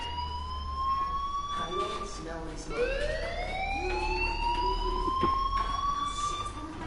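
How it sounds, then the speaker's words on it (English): In the video game Life is Strange, an electronic fire alarm wails in repeated rising, siren-like tones. It carries steadily and fairly loud, with faint voice sounds mixed underneath. "do you hear that fire alarm? That means you should be outside."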